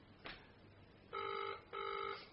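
Phone ringtone sounding on a call to a dual-SIM car GPS tracker: a soft chirp, then two distinct electronic ring bursts with a short gap between, fairly quiet and alone.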